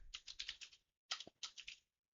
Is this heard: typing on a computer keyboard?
yes